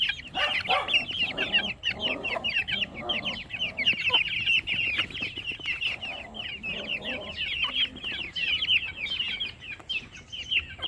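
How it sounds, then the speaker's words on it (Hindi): Chickens and young chicks cluck and cheep continuously in a busy group, high peeping chirps layered over lower clucks, close and moderately loud, with no talk. "खैर माशाल्लाह से चूज़े बहुत ज़बरदस्त बने हैं"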